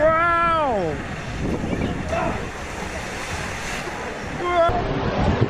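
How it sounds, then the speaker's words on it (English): At Aqualandia water park in Benidorm, a rider slides down and splashes into the pool with a broad, rushing wash of water and wind noise, while excited voices shout and exclaim over it at the start and end. "Oh, and he's going to do splash!"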